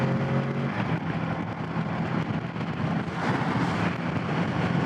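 Kawasaki Z650 motorcycle engine cruising in sixth gear at about 4,700 to 4,800 RPM, roughly 70 mph on an interstate, a steady broad drone mixed with heavy wind rush, continuous and fairly loud throughout.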